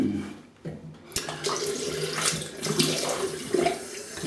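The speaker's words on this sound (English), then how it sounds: "Rinse with some cold water." Cold tap water runs into a bathroom sink for rinsing after a double-edge wet shave, a steady close splashing flow that starts abruptly after a brief quiet moment.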